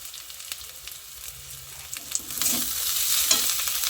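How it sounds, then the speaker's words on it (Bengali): Spice masala with about a spoonful of chili powder being stirred and fried in a pan, with a soft, steady sizzle and scraping stir strokes growing brighter and busier toward the end. "দিয়ে আমি সামান্য একটু জল দিয়ে মশলাটাকে ভালো করে কষিয়ে নেব"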